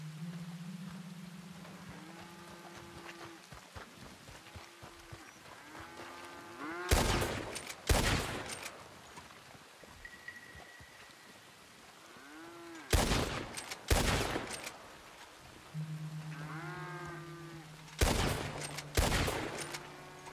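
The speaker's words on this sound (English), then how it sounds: "once you start firing the shots, they start moving forward" Gunfire during a cattle drive in Red Dead Redemption 2, several bursts of loud close shots in quick pairs and triplets, with cattle lowing and mooing in between and a low rumble of the herd underneath.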